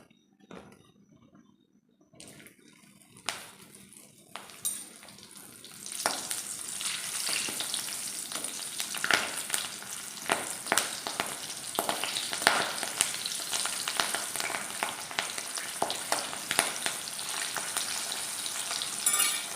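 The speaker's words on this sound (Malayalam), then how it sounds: "നമുക്ക് ഇച്ചിരി കറിവേപ്പിലയും രണ്ട് പച്ചമുളകും കൂടെ അങ്ങോട്ട് ഒന്ന് ഇട്ട് കോരിയെടുക്കാവേ" Beef with curry leaves and green chillies frying in hot oil for a Kerala-style dry fry, a steady close sizzle that swells after a few seconds and keeps crackling with occasional stirring clinks, no talk.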